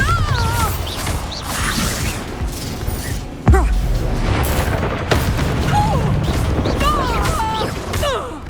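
Bombarda spell blasts from Hogwarts Legacy, a sharp explosive boom midway and another impact later within a busy combat mix of whooshes, crashes and shouted voices.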